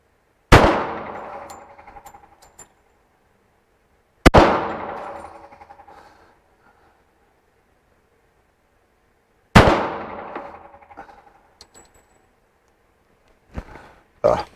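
Three loud, sharp shots from a Tisas .45 ACP pistol at a shooting range, each one ringing out and decaying over a couple of seconds, spaced several seconds apart, followed by faint handling clatter.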